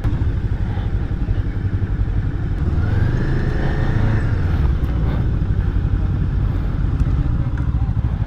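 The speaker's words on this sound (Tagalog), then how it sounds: "Mga motor yan ng mga BMW boss" BMW motorcycles of adventure rally participants idle and pass near a hotel, a loud steady engine rumble with rising revs and clatter, while people talk nearby.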